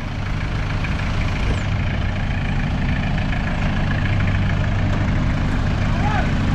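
An Argentine-built Rastrojero truck engine idles loudly and steadily, a close, unbroken low rumble, while people talk over it.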